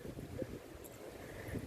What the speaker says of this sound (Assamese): ইমান ধূলি, বতাহ কেনেকুৱা মাৰিছে